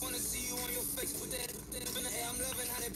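FM broadcast station received with an RTL-SDR dongle in GQRX on a Raspberry Pi, in wideband FM mode; dense, continuous broadcast audio with a steady full-band hiss, loud and unbroken throughout.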